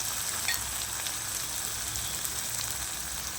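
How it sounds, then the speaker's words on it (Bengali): Onions sizzle steadily in a hot pan for a Bengali prawn curry, a continuous close crackle with faint popping throughout and no voices. "পেঁয়াজটা আমার একটু ভাজা ভাজা হচ্ছে"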